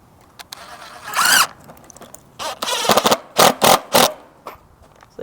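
Screw driven through a snap-on wire clip fastening wire mesh to a hoop chicken coop frame: a squealing, scraping drill run in several short bursts, the last ones louder and evenly spaced, close up with no talk.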